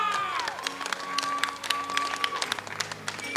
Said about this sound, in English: How about another round of applause for contestant number 1?